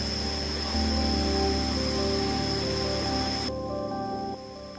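Montha Than waterfall in Doi Suthep-Pui National Park, Chiang Mai, gives a steady, even rush of falling water. The noise holds constant, then drops somewhat quieter near the end.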